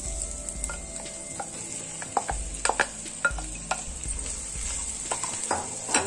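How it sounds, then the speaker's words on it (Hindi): Potatoes stirred into browned onions frying in a pan: steady sizzle with scraping spoon strokes and a few sharp clinks against the pan, close and alone without talk. "और प्याज ब्राउन हो गई है, अब इसमें मैं आलू डाल रही हूँ।"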